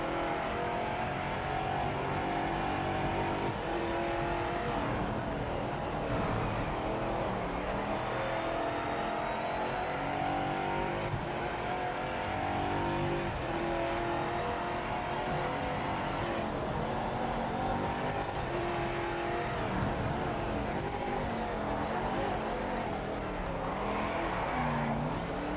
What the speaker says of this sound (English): This car comes up on the rev limiter so quick.